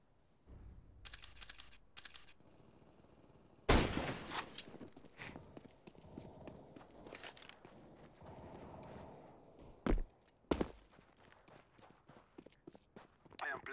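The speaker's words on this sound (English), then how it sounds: "Throwing a flashbang." In Counter-Strike, a flashbang is thrown amid quick in-game footsteps and handling clicks, with sharp, loud bursts cutting through, one especially strong, followed by further scattered impacts.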